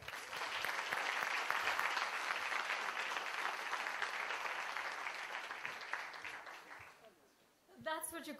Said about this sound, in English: two thumbs up and a round of applause for everybody here tonight.